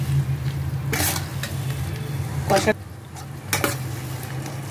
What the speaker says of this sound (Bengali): সমস্ত মশলাগুলো দিয়ে আমি ভালো করে একটু কষিয়ে নেব।